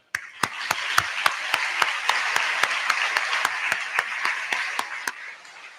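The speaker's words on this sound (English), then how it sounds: "So can we take a moment to do a round of applause for all of them?" A graduation ceremony audience at a middle school promotion gives a round of applause for parents: a loud, dense wash of clapping with sharp individual claps standing out in a steady rhythm, then ending abruptly.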